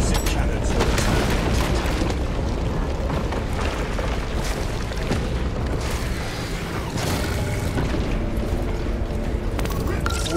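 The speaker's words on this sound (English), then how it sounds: "The defensive cannons will attack." Defensive cannons fire in Warhammer 40K Space Marine 2, a dense, continuous barrage of loud booms and blasts layered over clanking mechanical battle noise, with muffled game voices mixed underneath.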